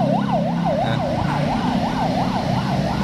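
An ambulance siren wails in a steady rising and falling cycle, loud and close, over a low rumble of engines and traffic.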